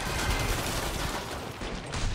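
Dense, continuous gunfire fills a Killing Floor 2 co-op zombie fight, rapid shots blending into a steady loud barrage with no clear gaps between them.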